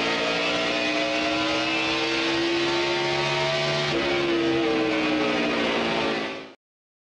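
Several racing car engines from the video game Cars 2 roar and whine together through Porto Corsa streets, rising and shifting in pitch, loud and continuous before cutting off abruptly near the end.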